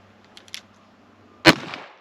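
A gun fired from the hip with a second handgun gives a single sharp, loud crack that rings briefly, preceded by a few faint clicks and handling sounds.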